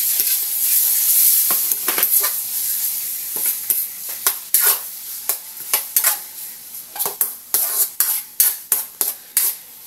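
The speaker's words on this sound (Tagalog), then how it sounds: "Pabayaan muna natin ma-toast ng konti yung chicken breast bago tayo mag-isa." Chicken breast toasting in a pan for a simple tuna pasta, with a bright continuous sizzle and a series of sharp utensil scrapes and taps that grow more regular toward the end.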